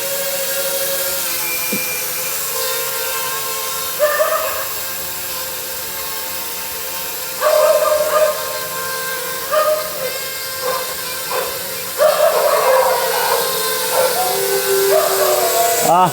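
A small drone hovers in place outdoors in the dark and wind, its rotors giving a steady high whine that swells and surges in several bursts, with some faint background noise.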